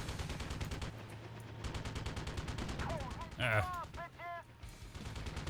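Rapid gunfire from the Thunder Wolves helicopter shooter runs as a steady stream of shots through most of the stretch, with a few bright electronic game tones near the end and a brief spoken exclamation partway through.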